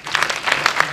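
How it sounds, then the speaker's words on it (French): Audience applause at a French-language event honouring a mountaineer, a brief burst of dense clapping heard fairly close throughout, with faint murmur underneath. "je vous demande de l'applaudir"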